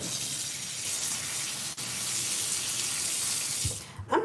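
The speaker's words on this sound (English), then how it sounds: "I'm going to add a little water because I want to see those crystals." Water pours steadily into a bucket of fabric softener, a continuous bright splashing hiss that runs for several seconds before tapering off with a few final drips.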